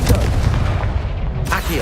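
A Confringo spell explosion in Hogwarts Legacy: a heavy, booming blast with a deep rumbling body, loud and close, followed by a brief sharper burst at the end.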